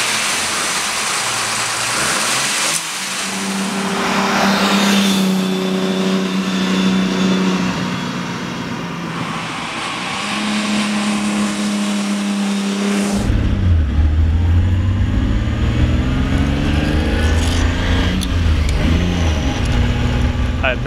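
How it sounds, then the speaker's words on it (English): A Lamborghini 400GT's 4-liter V12 with four overhead cams and six side-draft Weber carburetors idles loudly nearby, then swells into revving, with a person speaking over the engine. "This engine has the 4-liter V12. It has 4 overhead cams and 6 side drive Weber carburetors."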